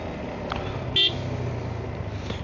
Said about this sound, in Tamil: 1 கிலோமீட்டராகவே டிராஃபிக்கு பயங்கரமாக இருக்குது